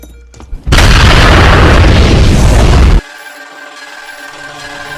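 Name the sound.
explosion at Umbrella Corporation base in Resident Evil film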